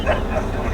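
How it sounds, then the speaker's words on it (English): A puppy at a campground gives a couple of short, close yips, each lasting only a fraction of a second. "The cute little puppy."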